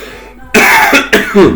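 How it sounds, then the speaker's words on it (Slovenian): A person indoors gives two loud, harsh coughs close to the mic, each a sharp burst, after a brief quiet lead-in. "Sorry, vmes malo pokašljujem."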